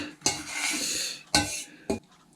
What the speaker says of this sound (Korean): 자 이제 필살기 숟가락 쓸 때예요